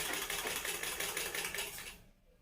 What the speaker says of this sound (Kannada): ಇದನ್ನು ಸ್ಟ್ರೈಟಾಗಿ ಸ್ಟಿಚ್ ಹಾಕ್ಬಿಡಿ.